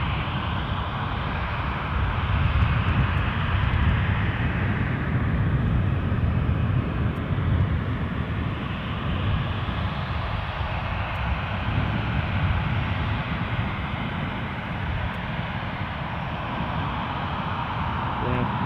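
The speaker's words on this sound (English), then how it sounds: "I can see a Ryanair about to come into your shot" A Ryanair airliner arrives at Edinburgh Airport, its engines a broad, steady roar that holds throughout, rising slightly and then easing, heard at a moderate distance with no gaps.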